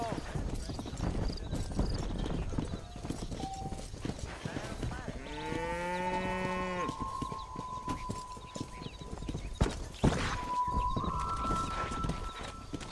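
Horse hooves clip-clop steadily while riding in the video game Red Dead Redemption, set under game music with a brief neigh partway through; someone talks over the hoofbeats.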